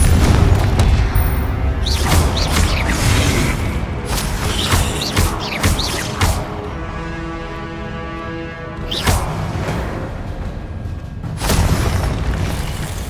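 Confringo fire spell explosions in the Hogwarts Legacy video game, a dense run of loud, booming blasts and bursts that keep coming over a constant rumbling backdrop of combat noise, with no breaks into quiet.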